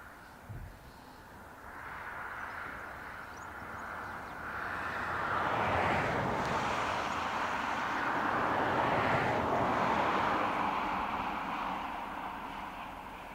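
A China Eastern Airbus A350 at Dublin Airport rumbles on the ground at a distance, a low broad engine roar that swells gradually and holds steady.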